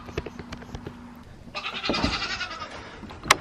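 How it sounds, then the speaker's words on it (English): Farm goats bleat several times close by, the calls overlapping in a rising, wavering chorus in the second half among light rustling and clatter, with no talking. "I don't think these goats like being the last ones out and fed."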